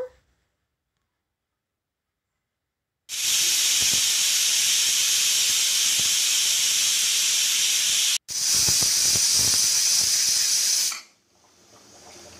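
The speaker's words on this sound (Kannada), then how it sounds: "ಈಗ ಸ್ಟವ್ ಮೇಲೆ ಕುಕ್ಕರ್ ಇಟ್ಟು ಕುಕ್ಕರ್ನ ಕ್ಲೋಸ್ ಮಾಡಿ ಎರಡು ವಿಜಲ್ ಬರೋವರೆಗೂ ಬೇಯಿಸ್ಕೋಬೇಕು" A pressure cooker cooking horse gram sambar on a stove releases a loud, steady hiss of steam lasting several seconds, with one brief break before it dies away.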